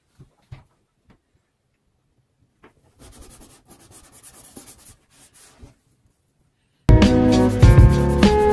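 Scrubbing a walk-in tub with a back-and-forth mopping motion. Soft, rasping rubs come in uneven bursts through the middle, after a few faint taps, and loud music then cuts in and drowns them out.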